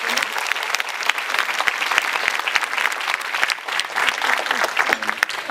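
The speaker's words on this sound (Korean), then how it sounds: "너무 힘들어서 박수 보내주시겠습니까?" Dense audience applause fills a cinema at CGV Apgujeong during a live talk event with director Mamoru Hosoda, continuous loud clapping from many hands throughout.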